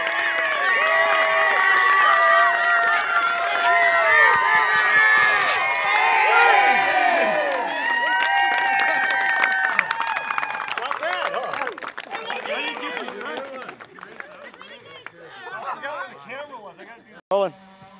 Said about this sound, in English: Everybody, go ahead and cheer.